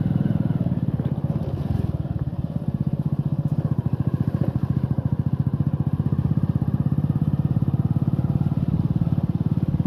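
A motorcycle engine runs steadily and loud throughout, a close continuous rumbling idle or ride with rhythmic pulsing and some clatter, no talk over it.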